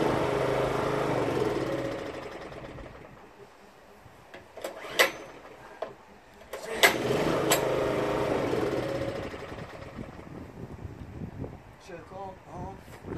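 A Performance Power 780 two-stroke generator with a troublesome carburettor runs roughly, then fades and sputters out with a few knocks and rattles before trying again. A voice talks over parts of it.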